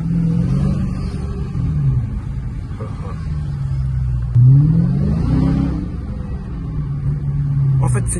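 Dodge Charger SRT Hellcat V8 accelerating from inside the cabin with a window lowered, a loud steady low rumble swelling and rising in pitch midway, with a voice talking over it.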